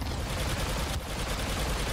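Rapid blaster fire in the video game Star Wars Battlefront II, a dense stream of quick shots rattling continuously and fairly quietly for a couple of seconds.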